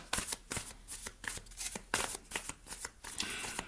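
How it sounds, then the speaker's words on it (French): A deck of tarot cards shuffled close up in a steady run of crisp riffling flutters and soft slaps, continuous throughout with no voices. "Déjà mélanger le jeu pour vous."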